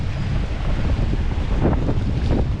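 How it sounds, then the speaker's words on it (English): On the coast at Half Moon Bay, California, while fishing, strong wind roars across the microphone in a steady, loud rumble, with faint surf underneath. "It's more windy over here than over there."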